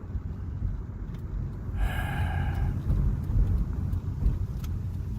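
Low, steady interior rumble of a car driving along, continuous through the whole stretch with a short breathy burst partway in; no one speaks.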